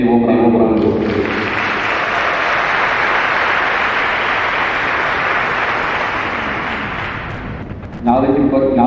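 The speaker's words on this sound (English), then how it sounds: "graduates, please, a warm round of applause." Graduates and guests at the October 2024 Two Oceans Graduation Institute ceremony break into loud, sustained hall-filling applause that slowly fades, with a speaker's voice heard just before and after.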